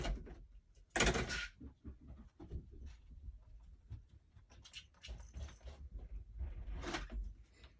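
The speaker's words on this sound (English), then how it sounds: "show me how you open the door" A cat works a sliding door indoors, with a sharp scraping slide and knock, then scattered soft bumps, taps and rattles of the door in a quiet room.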